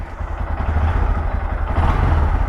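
A 2022 Honda Grom engine with stock exhaust putters loudly and close, its low pulsing exhaust note holding steady with a slight rise toward the end.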